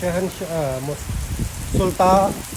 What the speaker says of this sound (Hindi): एकदम से दोस्तों तेज़ बारिश शुरू हुई है।